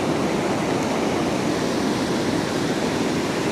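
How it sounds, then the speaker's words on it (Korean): Mountain stream water flowing in Ala Archa National Park, Kyrgyzstan, a steady, dense rush of water that holds an even loudness throughout, close and continuous with no voices. "물소리가 들립니까?"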